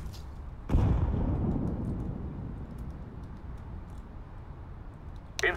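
A grenade goes off in a first-person shooter game: one sudden, heavy boom with a rumbling tail that fades slowly over several seconds, followed by faint distant game noise and a brief sharp sound at the end.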